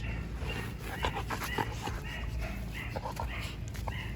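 A Dogo Argentino pants steadily with soft, high whimpers breaking through, close by against a hissy background.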